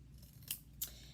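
Scissors snip red paper into strips in two quiet, crisp cuts about a third of a second apart over a low background hum.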